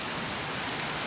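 Steady rain falling outdoors near a house gutter, a dense continuous hiss of drops on surfaces, close and loud with no talking.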